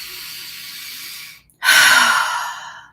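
A deliberate deep breath: a soft, quiet inhale, then a brief pause and a loud, breathy sigh-like exhale, close and alone.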